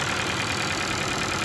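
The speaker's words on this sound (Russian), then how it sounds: "Работа двигателя на холостом ходу." Close and steady, the 1.6-litre engine of a 2013 Ford Focus 3 idles with an even, continuous hum and low rumble, with no voices over it.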